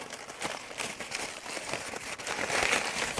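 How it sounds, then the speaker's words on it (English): Packing paper from an online order is crumpled by hand, giving close, irregular crackles and rustles that swell louder toward the end, with no speech. "So this is just packing paper that I got from Amazon or some sort of online order of some sort, and just crumpling it up."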